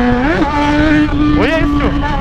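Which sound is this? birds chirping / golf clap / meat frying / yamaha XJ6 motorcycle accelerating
yamaha XJ6 motorcycle accelerating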